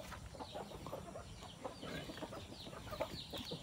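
Rhode Island and Asil cross chickens cluck in a busy flock close by, with repeated short clucks and low murmuring calls overlapping continuously and fairly faint.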